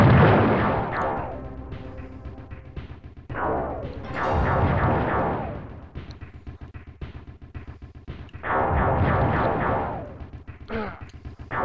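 Gunfire from The Terminator on the SNES, arriving as loud bursts of blasting, booming shots in three or four heavy clusters separated by short lulls, with no talking over it.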